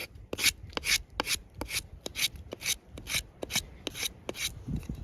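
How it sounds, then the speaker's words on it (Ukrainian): A SAVA Knives Ласун hunting knife shaves thin kindling curls from a wooden stick: close, dry rasping strokes repeating in a quick, even rhythm, each a short scrape. "на палочці щось зачистити, для розпалки якусь там маленьку стружечку"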